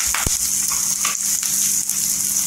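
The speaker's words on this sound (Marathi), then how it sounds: "छान असा कढीपत्ता तरतरला पाहिजे" Curry leaves crackle and sizzle in hot oil in a pan for a dry mandeli fish, brinjal and potato curry, a steady close fry hiss with a few sharp pops and no talking.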